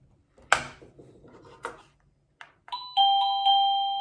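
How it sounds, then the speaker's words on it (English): A wireless Avantek Mini doorbell plays a chicken sound chime: a few sharp clucking bursts, then two ringing electronic tones, close and fairly loud. "We have a chicken sound every time we go ahead and ring our doorbell."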